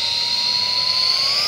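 E-flite F-14 radio-control jet with twin 40mm electric ducted fans at full throttle, giving a loud, steady high-pitched whine with a faint rising tone, continuous and close, with no talk.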